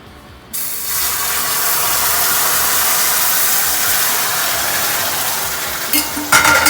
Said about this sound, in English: Now we will strain the liquid into it.